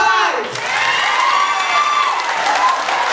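Audience at a school batch reunion contest clapping for a contestant, a dense sustained burst of applause with shouts and cheering mixed in, loud and close throughout.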